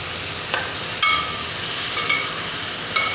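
Potatoes sizzle steadily in spiced oil in a pan, with a few sharp metallic clinks as a spoon stirs them, close up and with no talking.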